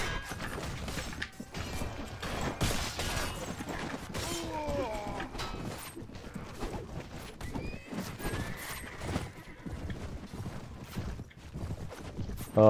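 Horses gallop in Mount & Blade: Warband with rapid clip-clop hoofbeats, whinnies and clashing battle noise throughout, the hooves close and busy over scattered impacts.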